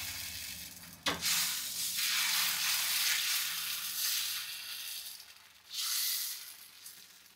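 Sago dosa batter hitting a hot pan sets off a loud, broad sizzle that swells and fades. A sharp clink comes near the start, and a second surge of hissing follows later. No one speaks.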